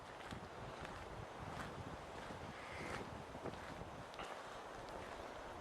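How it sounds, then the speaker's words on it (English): Wind blowing through a wood, a steady, faint rushing with gusty buffeting against the microphone and no clear voices, continuous throughout. "wind's getting up a bit, boys."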